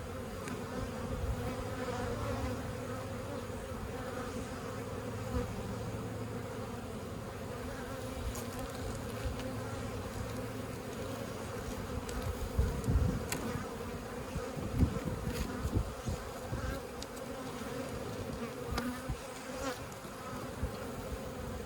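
Honeybees buzz steadily and fairly close throughout a hive inspection in a bee yard, a continuous dense drone with a few louder passes of individual bees near the end; no one speaks.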